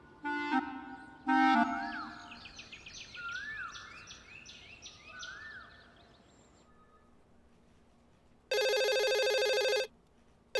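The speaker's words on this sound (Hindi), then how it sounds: "परेशान करके रख दिया आज फोन ने।" A telephone rings in two short bursts, birds chirp in the background, then a long, loud ring sounds near the end.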